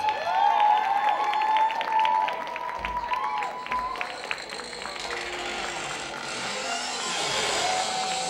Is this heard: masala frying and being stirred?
no